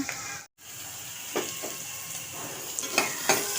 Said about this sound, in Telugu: ఉప్పు వేసి ఈ ఉల్లిపాయలు అవి మగ్గిస్తున్నాను